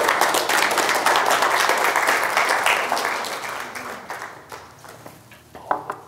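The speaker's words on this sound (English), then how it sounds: "A round of applause, please, for Timmy and Liz" A congregation applauds at a church service in honor of Timmy and Liz, the dense clapping starting full and loud, then thinning and fading over several seconds into scattered claps near the end.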